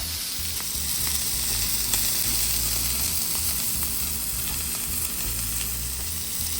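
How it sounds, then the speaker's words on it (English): Japanese A5 wagyu steak sizzles steadily in a hot pan just after being flipped, a loud, continuous fry with crackling pops, heard alone without talk. "now we're gonna go ahead and flip our steak. Look at that nice sear"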